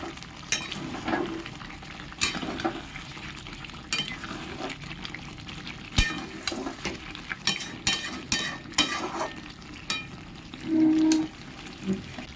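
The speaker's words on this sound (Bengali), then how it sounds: "একটু ওলট পালট করে দেবো।" Potatoes and pointed gourd with poppy seed frying in a pan, stirred with a utensil: steady close sizzle broken by repeated scraping strokes and a short clink near the end, no talking.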